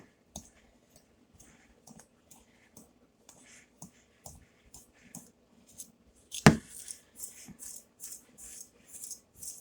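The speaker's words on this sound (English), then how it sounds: "I'm just cutting the butter in and out of the sugar" Butter cut into sugar in a bowl, heard as sparse soft clicks and scrapes of a utensil against the bowl, faint and close, with one sharper knock partway through and no voices.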